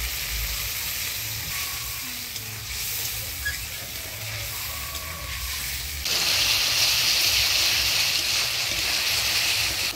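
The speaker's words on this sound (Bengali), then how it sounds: "এবার অল্প জল দিয়ে দিব মশলাটা ভালোভাবে কষানোর জন্য।" Spices with turmeric and salt fry in a pan for a Bengali egg curry with potato and cauliflower, a steady close sizzle that swells into a louder hiss once a little water is added.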